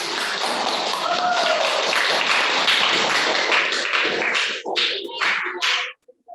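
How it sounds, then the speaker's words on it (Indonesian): Classroom applause after a group presentation in an Indonesian school lesson on separating mixtures by filtration, a steady wash of many hands clapping that thins into a few scattered claps before stopping. "Tepuk tangan buat temannya yang"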